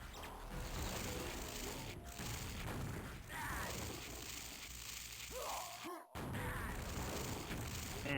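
Rocket blasts and crashing weapon fire in a 4on4 Quake clan match, a dense, continuous roar of explosions and game noise with faint voices underneath.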